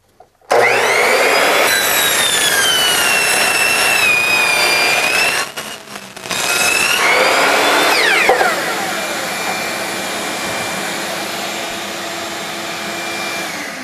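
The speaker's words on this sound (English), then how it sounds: "So we're going to take up the chop saw, just take it to the end," A chop saw screams loudly cutting the end off a tube for several seconds, dips briefly, then cuts again before a steady motor hum lingers alone.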